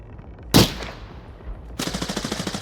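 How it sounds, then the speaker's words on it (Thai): Gunfire in the shooter game Arena Breakout Infinite: one loud single shot, a brief lull, then a rapid automatic burst of evenly spaced shots, sharp and close. "โดนไล่ยิงใช่ปะมัน"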